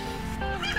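Birds call in a sunny garden, giving a short stretch of overlapping chirping and tonal calls, fairly loud and close, with no talking.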